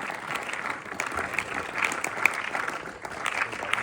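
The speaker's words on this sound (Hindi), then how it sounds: "जोरदार तालियों के साथ उनका स्वागत करें" An audience claps steadily to welcome the chief guest at a Republic Day event at a Vedic gurukul, a sustained dense round of applause with a few voices faintly mixed in.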